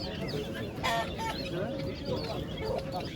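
Chickens and other fowl at Edirnekapı bird market give clucks and honking calls amid a dense, noisy market din, with a louder burst near the middle and people talking nearby.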